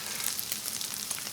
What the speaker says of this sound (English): It's getting a nice little sizzle going on.